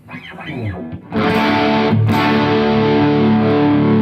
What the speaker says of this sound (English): a humbucking pickup just gives it, a real fat